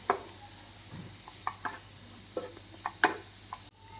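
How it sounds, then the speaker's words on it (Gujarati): Ground coriander-cumin spices are stirred and sautéed in a pan over low heat for Indian-style vegetable pasta. Faint sizzling runs under soft, scattered scrapes and taps from a spoon, with no talk. "1 ચમચી ધાણા જીરું પાવડર એડ કરશું અને બધું જ સારી રીતે સાતળી લેશું."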